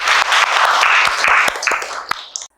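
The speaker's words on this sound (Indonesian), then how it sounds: "Tepuk tangan untuk kalian semua." A secondary school class of eleventh-grade science students claps together in their classroom, with loud, close, sharp individual hand claps blending into a brisk burst that drops off abruptly at the end.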